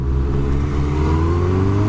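A 2017 Kawasaki Z900 motorcycle accelerating hard in fourth gear, its engine note climbing steadily and loud, close to the rider with no talk over it.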